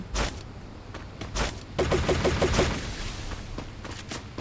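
In the video game Free Fire, a quick burst of rapid gunfire rattles out in the middle, with scattered single shots before and after.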